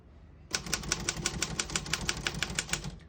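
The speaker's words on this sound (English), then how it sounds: "We're going to keep it on single and finish typing" Rapid, crisp clacks of a 1952 Royal KMM manual typewriter's keys strike in a quick, fairly even rhythm, close up, after a moment of quiet.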